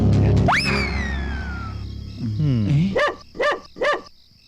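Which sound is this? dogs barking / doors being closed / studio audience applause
dogs barking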